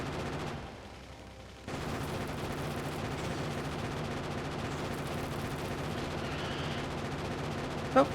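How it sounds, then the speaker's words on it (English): Defensive turrets fire continuously in a robot-rescue strategy game set during a nuclear disaster, a steady rattling barrage of gunfire that runs almost the whole time, with a short quieter gap early on. "they will go up here and get shot by our defensive turrets"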